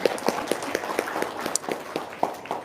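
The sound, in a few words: audience applause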